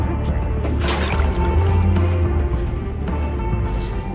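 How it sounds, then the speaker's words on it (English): A toilet flushes in Hitman: Absolution, a loud, continuous rush of sloshing, draining water with drips and gurgles, close and filling the whole stretch. "Come on, flush, you piece of shit toilet!"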